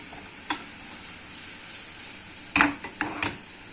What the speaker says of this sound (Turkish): Soğanımız biraz kavrulsun.